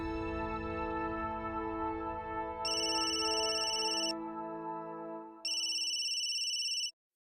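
An electronic phone ring on speakerphone sounds twice over a sustained musical tone, each ring a bright warbling burst of about a second and a half.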